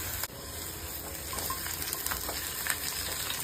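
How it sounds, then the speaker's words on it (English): Green chillies frying in a small amount of hot oil, a steady close sizzle and crackle that runs without a break, with a brief clatter near the start and a few small pops scattered through. "सबसे पहले हम इन मिर्चियों को अच्छी तरह से फ्राई कर लेंगे."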